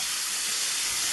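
Butter sizzles loudly in a hot pan beside a top round steak, a dense, continuous hiss with no breaks.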